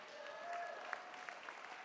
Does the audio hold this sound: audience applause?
yes